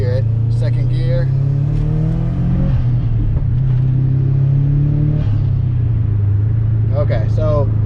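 A Subaru GC8 with an SPT intake and a 3-inch catted downpipe pulls hard in second gear. A loud intake roar climbs in pitch, dips, then climbs again through the revs, heard from inside the car.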